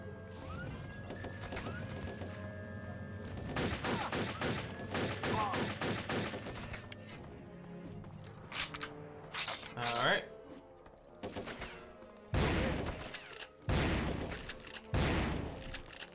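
Rapid assault rifle fire in the first-person shooter Turok 3, repeated bursts of crackling shots with heavy in-game ambience and effects, mixed under a commentator's voice.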